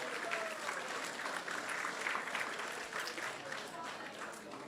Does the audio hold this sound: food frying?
no